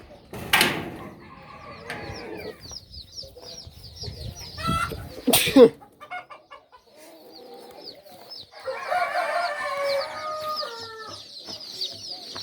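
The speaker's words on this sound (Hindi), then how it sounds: "अब हर तरफ मुर्गे अजान दे रहे हैं मेरे मजरे में" Roosters crow in long drawn-out calls, one close and loud, others farther off, amid clucking hens and soft farmyard bird chatter.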